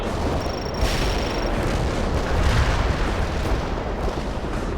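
A fiery incendiary bomb detonates in the real-time strategy game World in Conflict, a sustained rumbling roar of burning and blast noise that fills the whole stretch at steady loudness with no voices.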